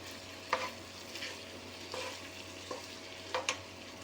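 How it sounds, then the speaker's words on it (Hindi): Potato curry with turmeric and spices sizzles softly in a pan while a spoon scrapes through it in a few separate strokes, faint and close, with no talking. "इसको बहुत अच्छी तरीके से मिक्स करेंगे और इसको फिर दम आंच पे हम पकाएंगे।"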